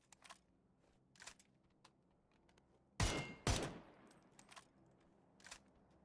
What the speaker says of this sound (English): I think they can hear the gunshots.